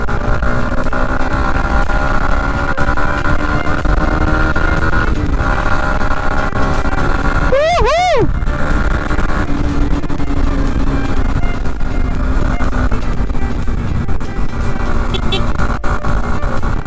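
Yamaha MT-15 155cc single-cylinder motorcycle engine with single overhead cam, a steady loud drone throughout, with a brief rising rev swell midway and someone talking over it.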